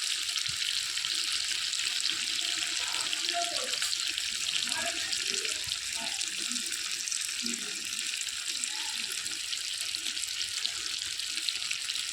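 Hot water pours steadily into a pan of ash gourd curry cooked with coconut, making a continuous close hissing splash that runs the whole time at an even level.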